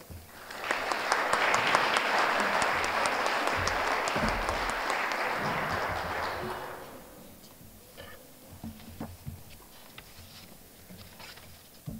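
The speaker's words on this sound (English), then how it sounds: "please give a round of applause to our first reader" Audience applauding a Cub Scout reader at a Treaty of Paris 1783 reading event, a dense burst of clapping lasting about seven seconds before fading into a quiet room with small scattered sounds.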